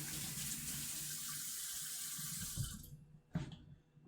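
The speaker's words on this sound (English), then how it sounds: "Give my hands a wash and do that." A kitchen sink tap runs steadily while hands are washed beneath it. The flow shuts off partway through, followed by a short clunk and quieter handling sounds.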